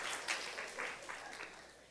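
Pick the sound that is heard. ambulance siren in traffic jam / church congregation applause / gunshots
church congregation applause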